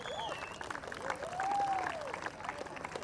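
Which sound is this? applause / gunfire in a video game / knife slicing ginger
applause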